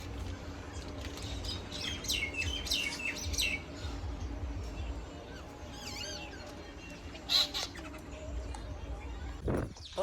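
Crows and sparrows feed and call near a roadside stop on a pilgrimage walk to Ramdevra: bright repeated chirps and tweets with occasional louder squawks over a low steady background hum, with people talking.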